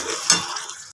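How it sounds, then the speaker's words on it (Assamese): Potatoes fry in hot oil for dum aloo curry, a soft continuous sizzle with a quick scrape of stirring near the start, close by and with no talking. "এইখিনি ধুনীয়াকৈ ভাজি থাকিম তেতিয়ালৈকে যেতিয়ালৈকে ইয়াত তেলটো ধুনীয়াকৈ ওলাই নাহে"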